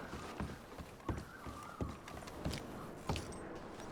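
Horses clip-clopping in Red Dead Redemption 2, a handful of distinct hoof strikes at an uneven walking pace, faint and close, with some quiet background ambience.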